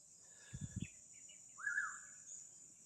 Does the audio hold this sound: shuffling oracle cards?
no